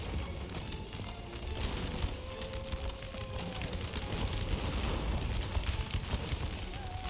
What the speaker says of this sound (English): It is drawing artillery fire